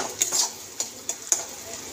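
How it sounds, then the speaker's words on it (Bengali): Masala spice paste being stirred and fried in a pan for a pomfret fish curry, with a steady faint sizzle and a few sharp clicks of a spoon or spatula against the pan, no voices. "এই যে মশলাটা কষা হয়।"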